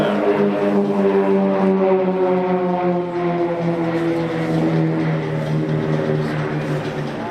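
Extra 330LX aerobatic aircraft of a display team at an air show, flying an inverted turn after a half Cuban; loud, continuous propeller engine drone with a steadily shifting pitch, close by and alone.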